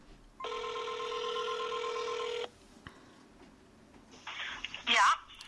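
A phone placed on speakerphone rings with a long steady electronic tone for about two seconds, then falls quiet before a voice answers faintly over the speaker.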